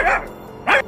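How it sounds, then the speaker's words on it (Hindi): A dog gives two loud, sharp barks close by, the first at the very start and the second a moment later after a short quiet gap. "जोर जोर से भौंकता है"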